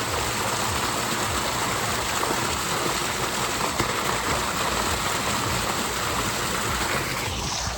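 Water pours steadily from a motor pump into a tank at a house under construction, a constant rushing splash that stays loud and even throughout, with no talking.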